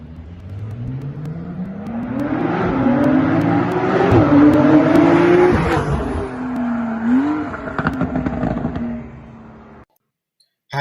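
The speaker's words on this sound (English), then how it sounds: "How about a video of my 911 992? That also has a FI exhaust system from Taiwan." Porsche 911 of the 992 generation fitted with an FI exhaust system revs loudly and close by, the pitch climbing and falling through several throttle blips over about ten seconds before cutting to silence.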